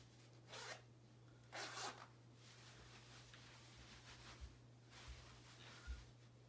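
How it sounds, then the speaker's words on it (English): Zippers on the pockets of a pair of prepper-style pants are pulled open and closed, several short close zips separated by pauses in a quiet room. "The zippers work."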